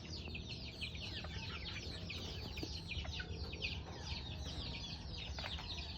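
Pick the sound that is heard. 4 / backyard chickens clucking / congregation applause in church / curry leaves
backyard chickens clucking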